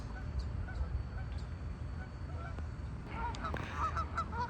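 Geese honk in a noisy group some distance off, repeated calls overlapping over a steady outdoor background, growing busier toward the end.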